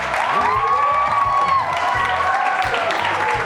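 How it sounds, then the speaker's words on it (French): Studio audience applause and cheering on a French-language talk show, a steady loud wash of clapping with whoops and shouts rising over it, continuous throughout. "Si vous avez hâte d'entendre un peu plus, applaudissez"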